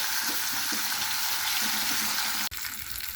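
Spiced fish fries in a hot pan with a steady, dense sizzle close up, crackling continuously before a brief break and then carrying on.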